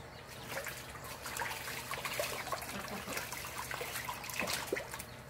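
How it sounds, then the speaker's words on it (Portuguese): A pet duck bathes in an orchard, making soft, faint water trickles and small splashes in an irregular rhythm that continue throughout. "Minha patinha tomando banho."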